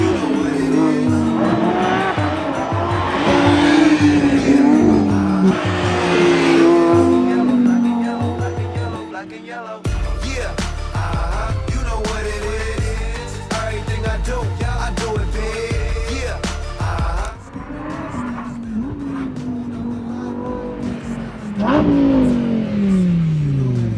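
Lamborghini driving and revving in GTA, engine tones rising and falling through gear changes over a long stretch, with tire noise and someone speaking briefly near the start.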